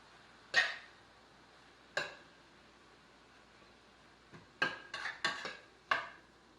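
Crumbled taco meat is mixed into vegetables in a pan, with scattered utensil clinks against the pan: two isolated knocks, then a quick cluster of several scrapes and taps near the end, fairly close and with no talking.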